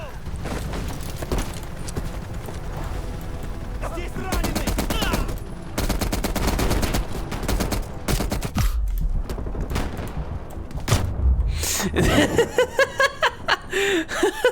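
Rapid bursts of automatic gunfire and booming shots from the video game Call of Duty: Black Ops Cold War fill the clip loudly and continuously, with laughter and chuckling mixed in over the game noise.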